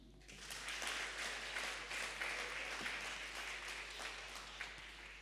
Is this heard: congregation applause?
yes